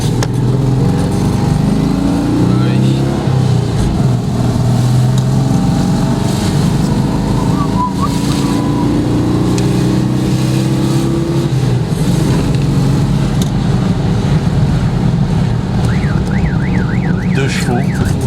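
A Citroën 2CV engine running close by, a loud, steady buzzing drone with uneven rising and falling pitch, like a small air-cooled twin revving, lasting throughout with a faint warbling tone near the end.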